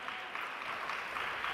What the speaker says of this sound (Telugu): చప్పట్లు కొట్టి దేవునికి స్తుతిద్దాం.